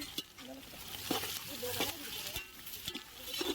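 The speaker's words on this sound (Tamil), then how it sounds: "அதுக்கப்புறம் ஆனியனும் க்ரீன் சில்லியும் போடுங்க" Onions and green chillies sauté in a pan for biryani, giving a soft steady sizzle with scraping stirs and spoon taps, fairly quiet and close, with some faint voice beneath.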